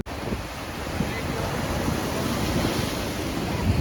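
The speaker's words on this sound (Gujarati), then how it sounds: "જોરદાર મોજા આવી છે" Strong sea waves surge against the shore at Dwarka, a steady broadband roar of surf mixed with wind buffeting the microphone, loud and continuous with no clear voices.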